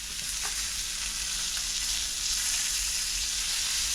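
A thick Muscovy duck breast sears in a hot pan, giving a loud, continuous close-up sizzle with no talking.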